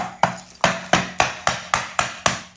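A hammer strikes a wood block laid over newly set floor tiles, landing eight sharp, evenly spaced knocks about every third of a second, loud and close with no talking.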